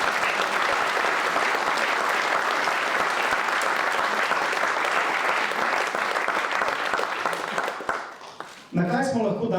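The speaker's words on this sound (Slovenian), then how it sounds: "Predlagam, da jim damo še en velik aplavz." A large audience at an award ceremony applauds loudly and steadily, dense clapping filling the space for several seconds before it tapers off and a voice begins.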